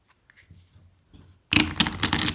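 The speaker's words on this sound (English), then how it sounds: "And a riffle shuffle" A deck of playing cards is riffle shuffled close by, with a burst of rapid fluttering card flicks that follows a few soft handling taps.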